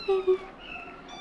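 A pet cat gives two short, clear meows in quick succession at a house with many pet cats, followed by quieter indoor ambience; a person speaks briefly.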